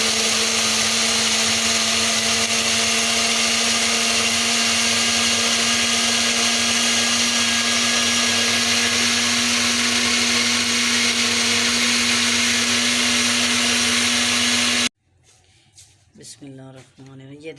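A kitchen blender grinding vinegar and other ingredients for red chili sauce, a loud constant motor whine held for about fifteen seconds, then cutting off abruptly before a voice speaks.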